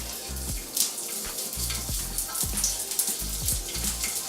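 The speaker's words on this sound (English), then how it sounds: "You should hear it sizzling." Asparagus searing in smoking-hot olive oil in a skillet, a constant close crackling sizzle with scattered sharp pops and no talking.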